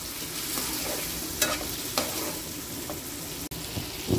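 Chickpeas frying in hot oil with softened tomato for chole rice, sizzling steadily up close, with a few louder stirring knocks and scrapes from a spoon.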